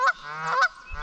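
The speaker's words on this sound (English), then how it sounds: "Noisy fucking geese." Two loud, nasal goose honks close by, about half a second apart, with a faint low rumble underneath.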